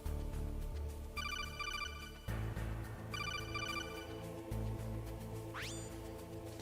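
A phone call rings in the Metal Gear Solid video game: repeated bursts of electronic trilling over a low droning backdrop, ending with a quick rising chirp.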